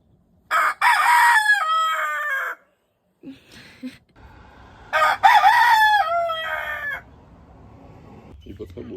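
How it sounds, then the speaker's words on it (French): A pet rooster crows twice, loud and close, each call a long strained cock-a-doodle-doo, with soft sounds and faint talk between the calls. "On a adopté un coq de compagnie."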